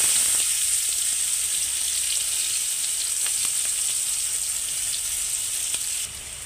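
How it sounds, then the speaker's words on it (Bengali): Chopped onion frying with cumin seeds in hot oil, a dense, loud, continuous hiss with faint crackles and a few soft stirring ticks, dropping slightly at the end. "তার মধ্যে পেঁয়াজ কুচিটাও দিয়ে দিচ্ছি"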